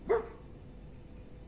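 A dog in the video game Fallout 4 gives a single short, close bark, followed by quiet game ambience.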